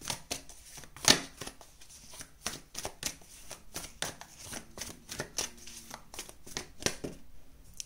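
Tarot cards are drawn from a deck with quick, quiet flicks and riffling snaps, close and faint, a series of short crisp bursts with one sharper slap early on and no talking.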